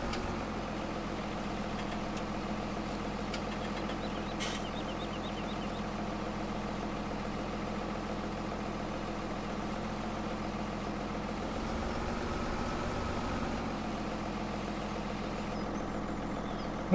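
Tractor engine idling in Farming Simulator 2017, a steady low rumbling drone that runs evenly throughout with a few faint clicks and a slight dip in tone near the end.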